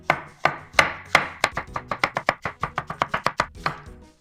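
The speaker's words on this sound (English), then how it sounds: "Then next the mushrooms, cut the darker part of the bottom. I'm also gonna cut this thinly." A knife slices mushrooms thinly on a cutting board, first in slow separate chops and then in a quicker even run of about twenty crisp, close taps.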